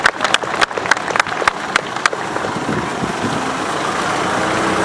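A cluster of claps rings out at a vintage vehicle gathering in Villähde as an old car's engine rumbles steadily, the clapping fading after two seconds while the engine drone continues and slowly grows louder.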